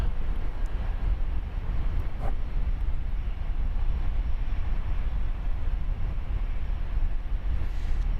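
A Southwest Airlines jet, Flight 55 bound for Houston Hobby, takes off at night from Dallas Love Field, heard as a steady, fairly distant roar that holds level throughout with no voices.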